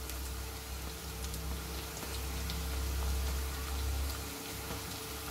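Chopped tomato with coriander sizzles and crackles steadily in hot oil in a pan, a soft continuous frying hiss with scattered pops and no voices.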